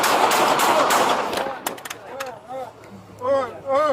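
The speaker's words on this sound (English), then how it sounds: "shots fired" A rapid burst of gunshots rings out during a police encounter, loud and close, followed by echoing reports and shouted voices over a radio-like background.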